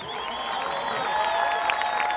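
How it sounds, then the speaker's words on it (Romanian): A festival crowd applauds at an outdoor folk music festival in Vama Veche, a steady wash of clapping that swells slightly louder toward the end. "Aplauze organizatorilor."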